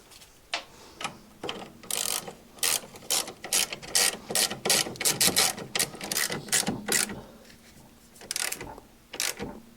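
A ratchet tightens a nut on the rear suspension of a 2001 Mk4 VW Golf GTi, in rapid close clicking bursts of varying length separated by short pauses.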